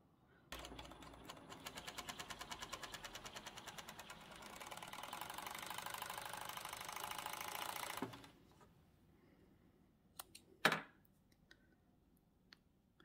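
A sewing machine stitches stretch fabric for a twisted headband in a steady, fast mechanical whir for about eight seconds, stopping with a few faint clicks and taps afterward; no talk.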